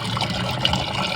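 Water poured from a container onto a sapodilla plant in a garden, a short, close, continuous splashing trickle.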